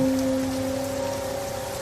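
Steady rain falls in a continuous, even hiss. A low, constant hum sits underneath it, and no voices are heard.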